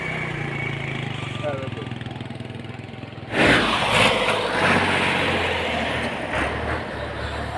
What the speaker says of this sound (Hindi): देखो जी ट्रैक्टर स्टार्ट हो गया है